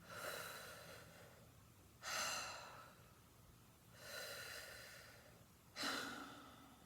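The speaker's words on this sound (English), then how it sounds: "you take a deep breath in, and then let it out. And then another breath in." Slow, deep breathing, with four distinct airy inhales and exhales about two seconds apart, close to the microphone and alone in a quiet room, with no talking.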